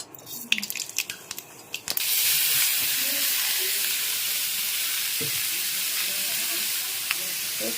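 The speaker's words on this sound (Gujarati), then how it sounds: "હવે આપણે એનો વઘાર કરીશું. આપણે ખાલી જીરાથી જ વઘાર કરવાનું." Hot oil starts sizzling loudly as cumin seeds go in after a couple of quiet seconds of small clinks, then a steady crackling hiss continues with a few faint knocks.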